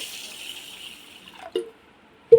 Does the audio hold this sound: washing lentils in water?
yes